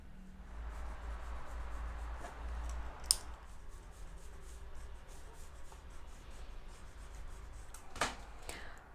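Pencil tracing a darted shoulder pattern onto fresh paper, a soft continuous scratching and rubbing that runs steadily throughout, faint and close, with a couple of brief sharper clicks.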